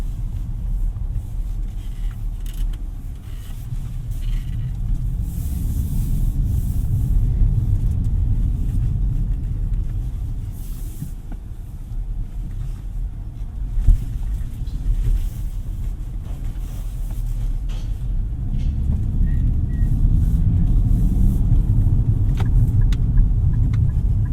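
A 2024 Nissan Z's engine and exhaust while driving, a steady low rumble that swells and eases with the throttle, subdued and quiet throughout, with a single brief knock midway.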